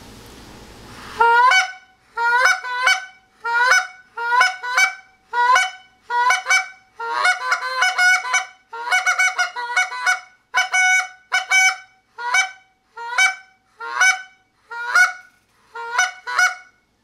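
An RNT G3 goose call is blown repeatedly, a fast series of sharp two-note honks and clucks in steady rhythm, loud and close, with no talking.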